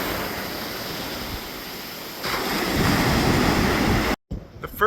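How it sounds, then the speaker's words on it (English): Atlantic Ocean surf breaking on a Virginia Beach shoreline with wind buffeting the microphone, a steady broad wash that swells louder midway and cuts out briefly near the end. "Well, there's the Atlantic Ocean."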